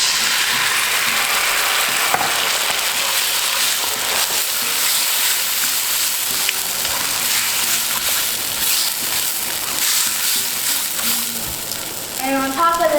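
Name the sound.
tomatoes added to diced fried food in pan, sizzling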